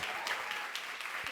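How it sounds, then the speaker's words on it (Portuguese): Faint applause rises from a church event audience, a brief, soft wash of clapping heard at a distance. "Uma salva de palmas para eles."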